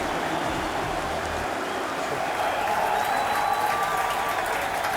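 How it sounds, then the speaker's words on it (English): Stadium crowd at the 1991 Rugby World Cup Final between England and Australia roaring and applauding as the teams come out, a broad, distant wash of sustained noise. "There's Australia getting a fairly raucous reception from the crowd."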